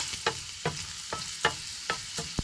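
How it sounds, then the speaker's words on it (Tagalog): Vegetables are sautéed in a frying pan, a steady close sizzle broken by about six rhythmic scraping stirs of a utensil against the pan. "Gisahin natin yung gulay."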